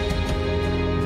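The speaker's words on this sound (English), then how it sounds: "we have extra drums fattening it up" Layered drums in a worship recording, thickened with extra higher-pitched drums: a dense, loud, full-band texture with several hits within a second.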